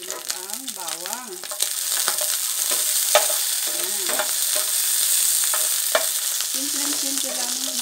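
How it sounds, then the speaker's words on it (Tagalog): Ginger fries in a pan for a Filipino pakbet with ampalaya: a steady, bright sizzle with occasional clinks of stirring, close and loud. A few brief warbling tones sound near the start. "Antayin lang natin maging golden brown ang ating luya bago natin isunod ang bawang."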